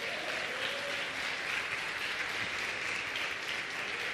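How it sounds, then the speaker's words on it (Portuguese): Church congregation applauding steadily throughout, a dense, even wash of clapping with a faint voice briefly surfacing underneath. "Aplauda Jesus."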